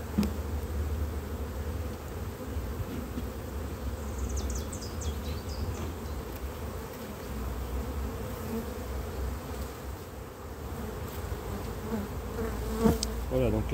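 Honey bees buzzing at an open hive during a spring queen introduction, a steady dense drone close by, with a few faint handling clicks and no talk.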